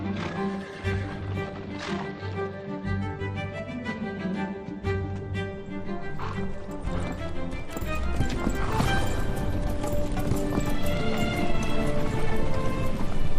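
Mongolian horses on the Inner Mongolia grassland clip-clopping with steady, close hoofbeats, joined by an occasional whinny and growing louder and busier toward the end over a sustained musical bed.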